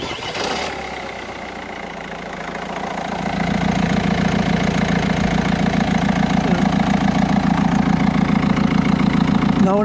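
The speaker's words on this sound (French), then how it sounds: "On va faire démarrer le moteur." A Citroën C4 Picasso 1.6 engine cranks briefly, then catches and settles into a steady close-up idle with an even, rapid rhythmic thrum lasting to the end.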